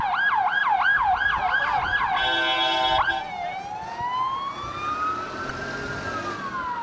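Emergency sirens wail near a pier collapsed during a storm in Istanbul, a fast warbling siren giving way to a brief blaring horn, then a slow rising and falling wail as fire engines and ambulances arrive.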